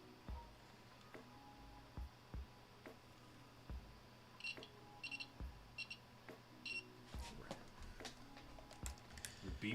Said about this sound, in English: The beeps of approval.